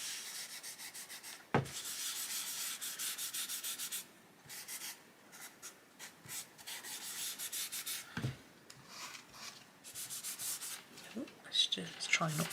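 Pastel is smeared across a colouring book page in soft, repeated rubbing strokes, quiet and close, broken by a couple of brief sharp taps and short pauses.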